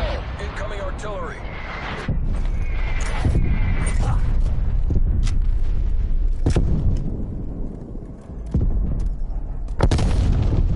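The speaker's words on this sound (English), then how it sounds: "Net call. Incoming artillery." Incoming artillery in a video game lands as a string of heavy booms and sharp blasts over a constant loud rumble of battle, with a voice speaking over the barrage.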